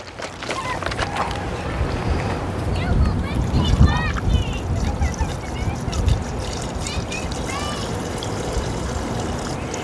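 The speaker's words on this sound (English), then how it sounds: "we're going to pour it right directly in there" A gallon of salt water is poured into an On The Go RV water softener, a steady splashing trickle close by with someone talking over it.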